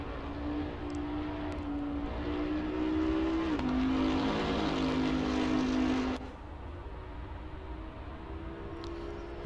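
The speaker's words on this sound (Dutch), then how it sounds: "Mooi geluid, valt meteen op een heel rijk V8 geluid" Bentley Continental V8 race car engine in Assetto Corsa Competizione, a steady rich drone that rises in pitch, briefly dips at a gear change, then drops and fades to a lower hum as the car backs off.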